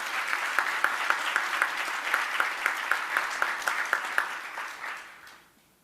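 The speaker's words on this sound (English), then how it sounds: "so let's give them a round of applause" Audience applause at a graduation ceremony, a sustained round of clapping from a room full of people with rhythmic accents, fading out at the end.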